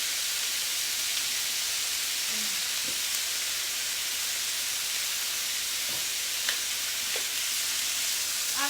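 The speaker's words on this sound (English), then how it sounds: "you can hear it sizzling just a little bit." Steady, bright sizzling hiss of food frying in a pan, continuous and close, with a few faint clicks and pops scattered through.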